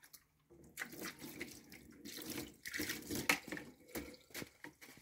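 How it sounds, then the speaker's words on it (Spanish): Hands being washed under a running kitchen tap, a close splashing stream that starts after a brief pause and continues unevenly with rising and falling gushes. "Voy a lavar un poquito la mano."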